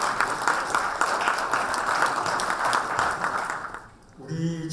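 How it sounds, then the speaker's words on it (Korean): Audience applause fills a party workshop lecture hall for a guest speaker: broad, steady clapping from a crowd, holding for about four seconds before fading out, with faint voices coming in at the end. "좀 특별히 박수 좀 부탁드립니다."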